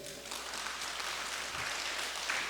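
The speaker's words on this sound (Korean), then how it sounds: "박수 안 칠래요?" A crowd at a church revival service claps steadily in sustained applause, a dense wash of hand claps filling the room without pause.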